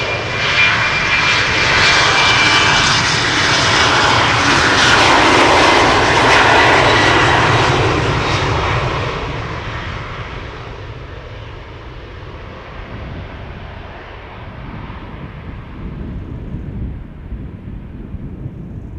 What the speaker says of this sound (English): On its way to the center runway, and this is the Adler Embraer